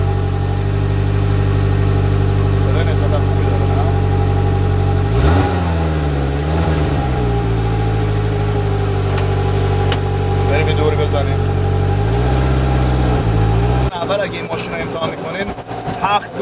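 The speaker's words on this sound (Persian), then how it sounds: "وقتی که میخواین ماشین روشن کنین، پاتون رو میزنین رو ترمز، منتظر میمونین تا این دکمه سبز بشه." A Polaris Slingshot three-wheeler engine turns over and settles into a steady, loud idle, with a brief rise and dip in revs partway through and a change in tone near the end.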